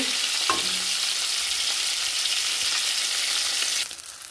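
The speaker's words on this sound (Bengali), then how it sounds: "মাছ দুটো ছেড়ে দিলাম ভাজতে।" Bhola fish frying in hot mustard oil, a steady loud broadband sizzle that holds for about four seconds before easing slightly at the end, with no voices.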